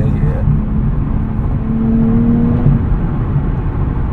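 A 2024 Nissan Z six-speed manual engine drones steadily from inside the cabin, its pitch rising briefly as the revs climb, over a constant low rumble.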